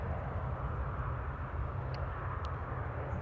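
An Air France airliner arriving from Charles de Gaulle is heard at Manchester Airport, where its jet engines give a steady, broad roar at moderate distance with no talk over it.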